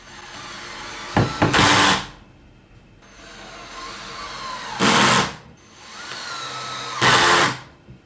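A power drill drives nails into wood while bookshelves are built, running in three loud bursts of a few seconds each with quieter pauses between them.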